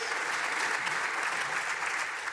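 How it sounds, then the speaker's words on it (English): Even, sustained applause from a large conference audience at a Hedera technology event, a thick crowd of hands clapping steadily at moderate volume without any speech. "It is worth clapping for."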